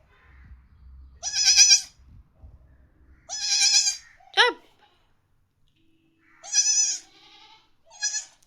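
Newborn lambs, about two days old, bleat at home in short, high, wavering cries. The calls come in separate bursts with quiet gaps between them, close by and clear.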